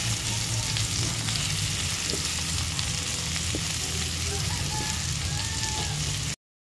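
Chopped onion and garlic fry together in a pan, giving a steady soft sizzle and crackle with faint scraping, heard alone and fairly quietly throughout.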